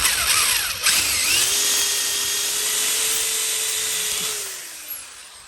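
Electric drill boring holes through the roof of an extreme-built Suzuki Sidekick for a roof rack, a loud steady high whine with the motor pitch rising, holding and then winding down near the end.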